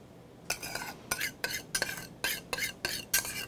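A spoon stirs a seasoning mix of chopped green onion and sesame salt for a Korean deodeok salad. About eight short scraping strokes come in an uneven rhythm, close and moderately loud, with no one talking.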